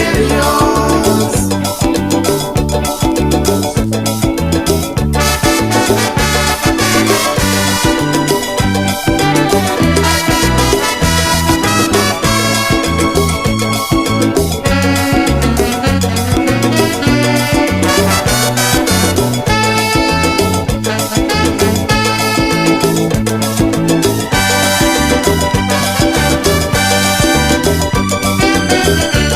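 The song plays as full-band music with steady bass and dense melodic layers, loud and continuous with no talking over it.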